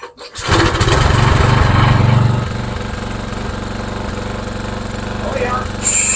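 An old walk-behind lawn mower, primed after a carburetor fix, starts with a sputter and then runs with a loud, steady close-up engine drone that settles into a lower, slightly slow idle.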